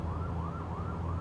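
A city emergency vehicle siren wails in a steady rising and falling cycle, loud and continuous over low traffic rumble.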